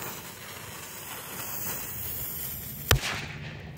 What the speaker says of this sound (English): And now we have the Outlaw Buster firecracker.